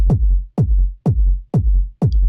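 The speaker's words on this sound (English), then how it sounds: "So let's listen to the kick." Tech house kick drums programmed in Ableton thump alone in a steady four-on-the-floor pattern, five punchy, deep, booming hits about half a second apart, loud and close.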